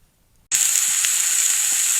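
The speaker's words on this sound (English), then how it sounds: "and we're frying a burger." Loud, steady sizzling of a burger frying in a hot pan over a campfire, starting abruptly after a brief quiet moment and continuing close up without pause.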